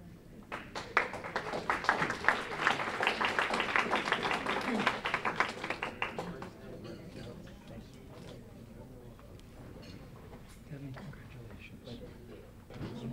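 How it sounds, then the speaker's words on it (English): A graduation ceremony audience gives a round of applause, many hands clapping loudly for about six seconds before it fades into quieter room sound and a voice speaking. "that's something that deserves a great big round of applause from the group here"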